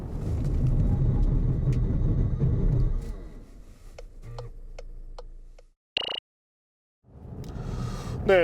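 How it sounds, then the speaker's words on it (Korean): Volkswagen Tiguan 2.0 TDI 4Motion in a braking test, with a loud engine and road rumble that fades as the car slows to a stop, scattered ticks and clicks, then near silence before noise returns. "자, 그렇다면 이번에는 티구안의 제동 성능을 한번 볼까요?"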